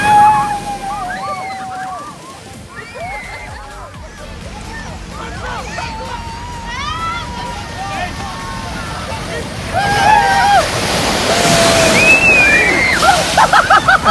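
A large group slides down a giant slip n slide into freezing cold water at a holiday park in Newquay, Cornwall, with sloshing and splashing under excited shouts and crowd chatter that grows louder toward the end.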